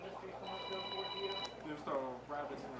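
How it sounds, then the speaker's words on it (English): A mobile phone ringing indoors at an aquarium society gathering, a steady electronic tone sounding for about a second before giving way to people talking nearby. "Whose phone is that? Sounds like mine."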